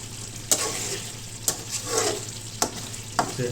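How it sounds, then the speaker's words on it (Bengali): A spatula stirs chicken curry in a pan over a soft simmering sizzle, making four or five sharp scraping strokes at uneven intervals close up. "আমরা এটাকে লাড়ার মাধ্যমে রাখবেন, যখন পানিটা টেনে যাবে তখন লাড়ার মধ্যে রাখতে হবে।"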